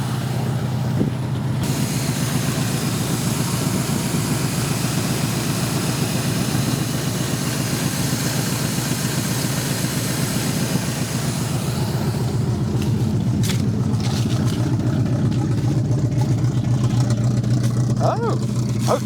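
An old 1966 Ford Mustang V8 pulled from a junkyard, with a clamped-shut exhaust, runs with a steady rough low idle and a few light revs, with a person talking over it.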